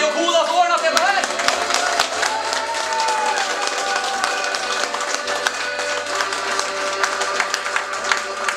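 An indoor concert audience gives applause, with steady dense clapping and crowd noise behind sustained music tones. Voices are heard through it.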